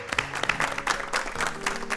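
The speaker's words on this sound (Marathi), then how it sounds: "जोरदार टाळ्या झाल्या पाहिजेत" Audience at a dholki performance show claps in a short burst of applause, dense and moderately loud, with a faint sustained tone beneath.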